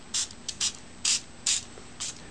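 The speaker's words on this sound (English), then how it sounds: "spray this with the solution" Quick pumps from a spray bottle of soap and water solution onto a phone screen protector: five short, close, crisp hissing bursts in an uneven rhythm, with quiet gaps between them.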